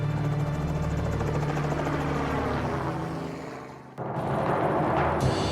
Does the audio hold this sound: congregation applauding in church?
no